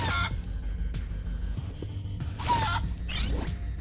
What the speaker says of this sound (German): Geiles Huhn, oder?